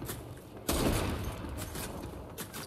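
Enemy gunfire crackles in a Fortnite match as a dense burst of rapid shots that starts suddenly and continues in a steady rattle, with no talking over it.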